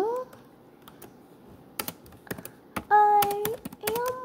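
Keystrokes on a computer keyboard as someone types a journal entry, a scattered run of light clicks with a voice speaking partway through.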